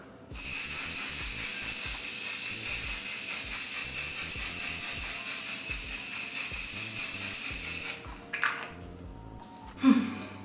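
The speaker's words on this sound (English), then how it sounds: "this One Size Beauty Until Dawn Waterproof Mattifying Setting Spray" One Size Beauty Until Dawn waterproof mattifying setting spray hisses in one long, continuous burst lasting about eight seconds, close and even. Brief soft rustles and a small thump follow.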